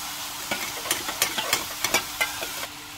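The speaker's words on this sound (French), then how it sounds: "Maintenant, mes légumes commencent à cuire." Vegetables cooking in a pan with salt, pepper and water, giving a soft steady sizzle broken by about a dozen sharp scraping and stirring knocks spaced through the clip, with no talk.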